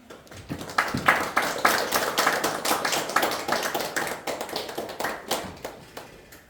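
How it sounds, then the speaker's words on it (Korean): A church congregation claps at a worship service, a dense run of sharp, close handclaps that rises quickly and stays steady to the end. "하나님께 영광의 박수입니다."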